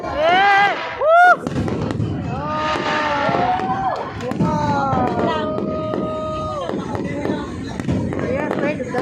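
Fireworks bang and crackle amid excited shouting and cheering voices, with bursts scattered through a noisy outdoor crowd.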